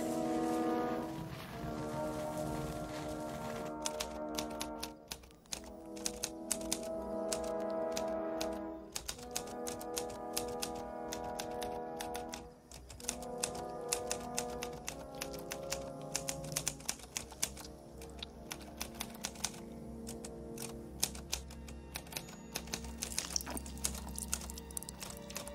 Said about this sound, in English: We have your new writing machine.